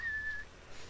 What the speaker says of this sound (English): Oh, damn whistling.